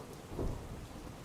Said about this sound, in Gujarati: સતત બે દિવસથી અમદાવાદમાં ધોધમાર વરસાદ વરસી રહ્યો છે